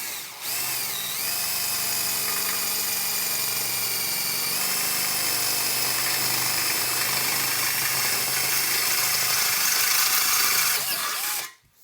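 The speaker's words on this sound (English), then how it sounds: "let off the pressure some so the bit can cut through smoothly" A drill bit bores through a steel amplifier chassis in a steady, loud, continuous whine with a high metallic screech that shifts in pitch partway through, then cuts off abruptly near the end.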